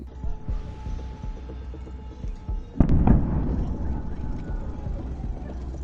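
During a drone attack on Kursk, Russia, a sharp explosion cracks out midway, followed by a rumbling, sustained roar over distant background noise and faint voices.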